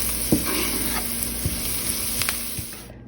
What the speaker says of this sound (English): So then just saute this down. It's only gonna take a few minutes.